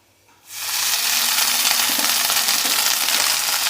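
Fenugreek leaves dropped into a hot pan with onion, chilli and garlic, giving a sudden loud sizzle that holds as a steady, bright frying hiss close by.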